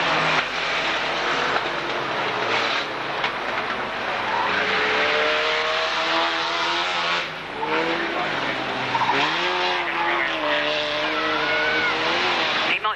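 Racing vans at an auto club meeting in 1991 overtake one another with loud, continuous engine roar and squealing tyres that rise and fall as they pass close by. No talking is heard.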